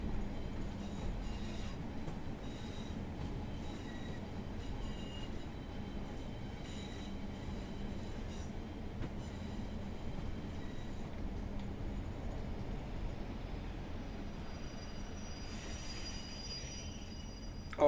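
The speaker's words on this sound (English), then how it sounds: "let's just roll to the end of the platform and pick up these fantastic passengers" A passenger train rolls steadily along a platform in Train Sim World 6 on the Preston to Blackpool route, with a continuous low rumble, rhythmic wheel clatter and faint high squeals from the wheels, heard alone and at close range throughout.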